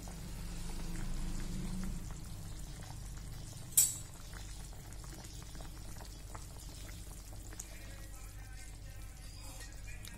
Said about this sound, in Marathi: भाजीला छानपैकी उकळी आली आहे.